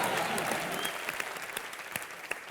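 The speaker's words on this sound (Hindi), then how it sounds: "जोरदार तालियां।" Audience applause at a televised comedy entertainment show, a dense wash of clapping that starts full and gradually thins out, with scattered sharper claps standing out toward the end.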